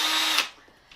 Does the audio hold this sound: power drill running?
yes